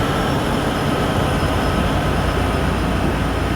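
Freight train with two DPU locomotives passing in Train Sim World 4 on a long uphill run out of Cheyenne, a dense, loud, steady rumble with no breaks.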